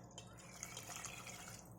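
Water pours in a steady rush into a pot of bisi bele bath, a Karnataka-style rice and lentil dish, at close range and fairly soft, with a few drips and no talking.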